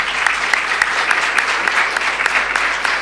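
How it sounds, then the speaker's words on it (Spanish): A church congregation applauds in praise, steady dense clapping that fills the room at full volume throughout, with no voice rising above it. "Damos un aplauso al Señor por la vida de estos hombres."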